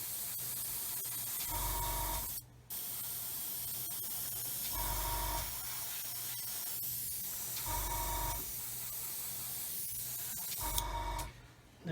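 Airbrush sprays weathering paint onto a Revell/Zvezda Topol SS-25 Sickle model kit in repeated soft hissing bursts with short pauses between them, heard close and quiet.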